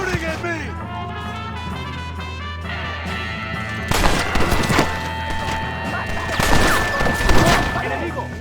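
Gunfire in the Red Dead Redemption video game comes in sharp bursts over a shootout, with overlapping cracks and a loud volley near the end. Shouting voices and background score run underneath.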